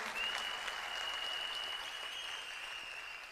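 Audience applause, a steady spell of clapping from a crowd at a business talk, heard a little distant and fading slightly at the end.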